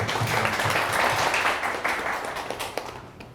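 An audience at an NFT seminar applauds to welcome a speaker, a dense, sustained round of clapping from many hands that slowly tapers off toward the end.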